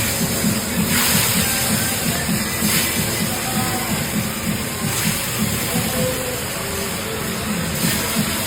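Fish frying in hot oil in a cooking pan for a restaurant-style Bengali dish, giving a loud, steady sizzle and hiss that runs unbroken throughout with soft crackling underneath.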